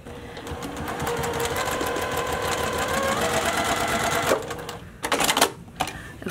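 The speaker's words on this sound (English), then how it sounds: "Get it on my sewing machine." A sewing machine runs steadily for about four seconds with a fast mechanical whir, then stops and gives a few short bursts of stitching.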